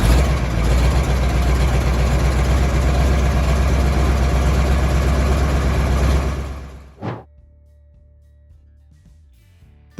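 A vintage diesel truck engine, a Cummins V903 V8, idles with a loud, heavy, continuous clatter and rumble, then cuts off abruptly with a final shudder, leaving near silence.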